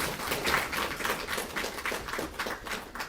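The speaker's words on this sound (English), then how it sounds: "let's all give a big round of applause" A seated audience claps for dignitaries at a one-day drug-sampling training event, a dense, even round of applause that holds steady throughout without fading.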